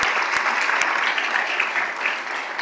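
Congregation applauding at a church service, a dense, steady wash of many hands clapping close and loud throughout, with no talk over it.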